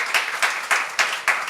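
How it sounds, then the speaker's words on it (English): Audience applause honoring Andre the Giant at a live anniversary show for The Princess Bride, a dense wash of clapping from a crowd with rhythmic swells roughly every third of a second, steady and moderately loud throughout. "Round of applause for Andre the Giant."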